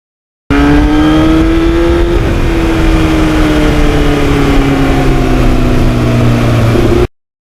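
A 1991 Yamaha FZR1000 motorcycle engine running through a Norton muffler exhaust, a loud steady close-up drone with a slowly falling pitch, continuous for about seven seconds with no talking.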